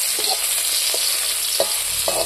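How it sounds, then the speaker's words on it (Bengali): Chopped vegetables with salt and turmeric sizzle loudly in hot oil, a dense continuous hiss close by, with a few soft scraping stirs of the spatula against the pan. "ভালো করে ভাজি দেবো"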